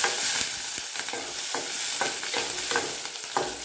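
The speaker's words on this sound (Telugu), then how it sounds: "టేబుల్ స్పూన్ ఆయిల్ పోసుకొని పచ్చిమిర్చి వేగేంత వరకు కలుపుకోవాలి." Green chillies fry in about a tablespoon of oil while a spoon stirs them in the pan, a close, soft sizzle broken by regular scraping strokes, with no voices.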